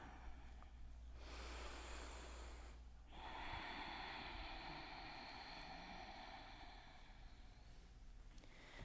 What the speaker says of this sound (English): So Ujjayi breathing is deep breaths in your nose